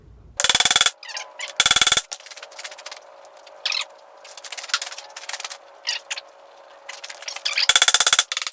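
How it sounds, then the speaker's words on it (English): Repeated sharp metallic clangs as a walnut wood block strikes a steel pin on a Case 580K backhoe, irregular bursts of blows with ringing tones in between, close and loud. "Now I need to knock this pin out of here and try not to damage the face of this."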